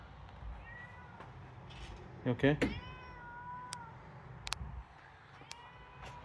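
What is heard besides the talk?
cat meowing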